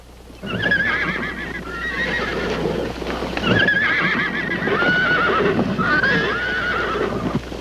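Several horses neigh and whinny repeatedly during a cavalry roundup, loud, close and overlapping, with hooves clip-clopping steadily underneath and no voices.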